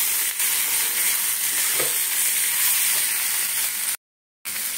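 Turmeric, salt and Kashmiri chilli powder fry in hot oil with a steady, loud sizzle that holds evenly, cut by a short silence near the end.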